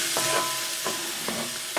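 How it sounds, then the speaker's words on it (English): Mapo tofu simmering in chicken stock in a pan, with a steady close sizzle and a few soft scrapes as it is stirred. "And we just want to stir all this up."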